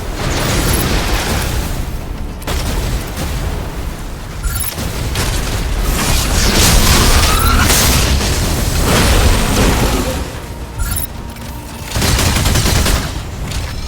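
Cannon fire and explosions from the mech combat game Mecha Break: a dense barrage of booming blasts and rapid shots rolling almost without pause, loud and layered, with no speech.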